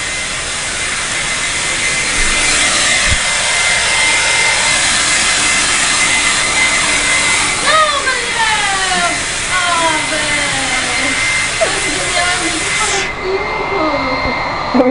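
A hair dryer roars on high speed as a loud, continuous blast of air, while people talk and shout over it, and the noise drops away near the end.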